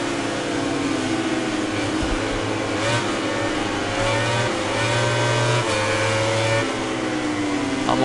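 A motorcycle engine in the MotoGP 19 racing video game drones and revs continuously at a loud, steady level, with pitch rising and falling through gear changes and no talking.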